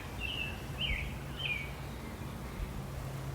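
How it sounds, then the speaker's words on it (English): A jay gives three short, faint, harsh calls in quick succession from a distance over quiet outdoor background noise at Lake Arrowhead. "in the background there, I just heard a jay calling"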